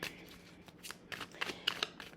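Tarot cards being shuffled by hand, a quick run of crisp riffling and flicking bursts that grow slightly louder toward the end, close and alone with no talking.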